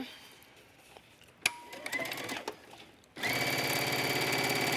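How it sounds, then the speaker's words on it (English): Sewing machine stitching the wide waistband and hidden pocket of a pair of leggings; quiet handling sounds first, then a loud, steady run of the machine starting about two-thirds through and carrying on to the end. "I'm going to stitch here all the way up to that point, and then here all the way down to that point"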